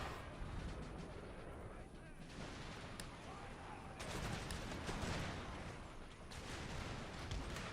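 Cannon and gunfire from the Empire Total War Imperial Destroyer mod, a Prussian campaign battle: a steady dense barrage of booms and crackling shots filling the whole stretch, surging louder around the middle and again near the end.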